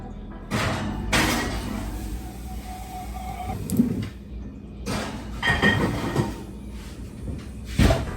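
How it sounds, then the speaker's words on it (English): Chicken wings go into an oven set to bake at 375 degrees, with the oven door opening and closing in a few close, short bangs and clunks over a low kitchen hum. "so now I'm gonna place them into the oven to bake at 375"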